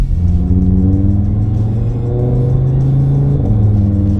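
A loud car engine with its exhaust valves open drones and climbs steadily in pitch as it revs, with a brief dip before rising again, close by.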